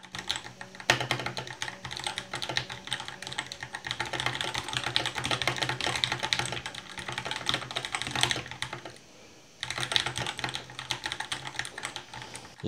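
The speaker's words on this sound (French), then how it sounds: "c'est amusant d'entendre les touches comme ça" Rapid, clacky typing on a Keychron K2 V2 mechanical keyboard, close and steady, with a brief pause near the end before the keystrokes resume.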